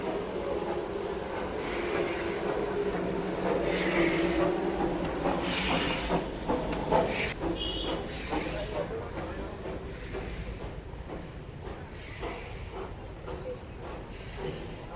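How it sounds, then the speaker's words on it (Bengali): A small Darjeeling toy train steam locomotive hisses and chuffs nearby as it departs, with a broad rushing steam noise swelling and then easing, and faint voices and station bustle in the background. "আর এটা হচ্ছে স্টিম ইঞ্জিনে এটা জাস্ট এই মাত্র ছাড়বে"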